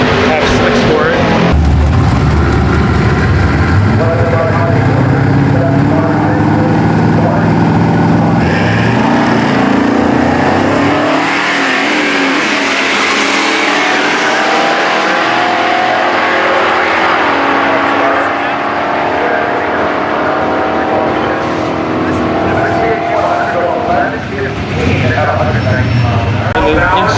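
A Dodge E100 truck fitted with a big block 440 V8 and 727 transmission roars at high revs, the loud engine accelerating and swelling in pitch over a long stretch, with talking heard over it.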